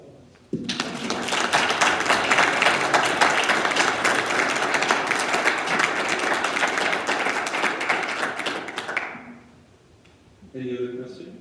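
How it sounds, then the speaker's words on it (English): An audience at a military miniatures club exhibition gives a loud, sustained round of applause that starts abruptly, runs for about eight seconds and then fades, followed by someone speaking. "I'd like to give you a round of applause."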